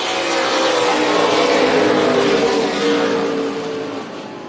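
NASCAR Weekly Series race cars racing tightly in a pack at Tucson Speedway, a loud, dense roar of several engines held steady and close, easing slightly toward the end.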